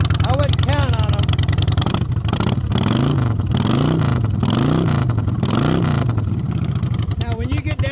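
A custom Harley motorcycle, built twenty years ago, idles loudly and unevenly as it warms up. A deep, lumpy rumble is heard close by, with rising and falling revs, while people talk over the engine.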